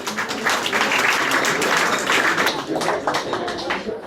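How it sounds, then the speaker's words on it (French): Audience applause at the Baguettes d'or 2015 award ceremony in Paris 13, a loud, close burst of dense clapping that swells and dips slightly over a few seconds. "On peut vous applaudir. Bravo."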